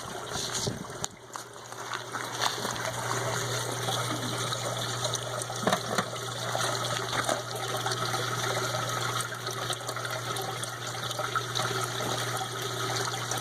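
Water runs steadily through a Gold Webb concentrator as it processes gold concentrates, a continuous close-up rush and trickle with a low mechanical hum beneath and no voices.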